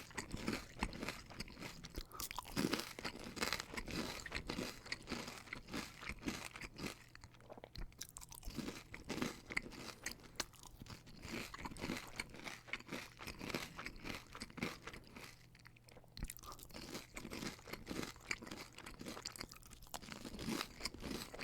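Crunchy Burger King hash browns are chewed close to the mic, with steady crisp crunching bites that keep going without pause, loud and dense, with no talking.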